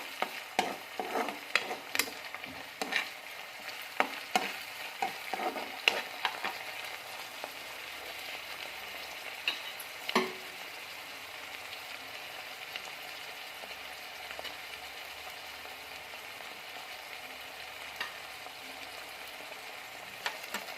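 Spinach masala for palak paneer stirred and fried in a pan, with a quiet sizzle under scattered scraping clicks from the spoon, busier at first and settling into a softer frying hiss later.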